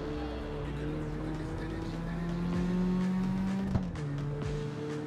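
Cars racing in the CarX Street video game, with a steady droning engine note that rises as one car accelerates, then a brief tire squeal and a drop back to a lower hum, with traffic around.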